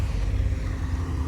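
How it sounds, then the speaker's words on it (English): An old Triumph TR4 rolls into a show field, its engine a close, steady low rumble with a slight throaty burble, heard alone and briefly. "Yeah, they're coming in the droves now. Old Triumph. TR4."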